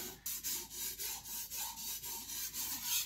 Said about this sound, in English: you move your knife back and forth like so. And this is a pretty rough grit.